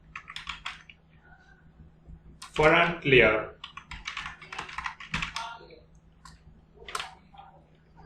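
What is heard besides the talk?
computer keyboard typing code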